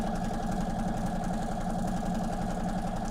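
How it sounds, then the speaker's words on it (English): A sewing machine stitching through a stack of fabrics, a steady continuous motor hum that holds evenly throughout without breaks or speech. "Just sewing down my stack of fabrics."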